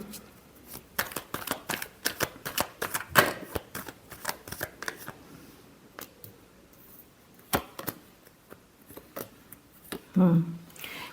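Tarot cards being shuffled, with a rapid run of soft riffling flutters and snaps at close range, broken by brief pauses; someone talks through parts of it.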